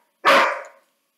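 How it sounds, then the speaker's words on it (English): A single loud, close dog bark, one sharp burst that fades quickly into silence, with no talking around it. "there's that dog again."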